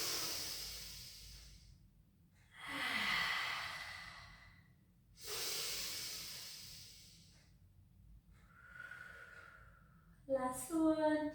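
Slow, deep breaths during a pilates exercise: long hissing inhales and exhales rise and fall in a steady rhythm, close and soft, before a voice begins speaking at the end.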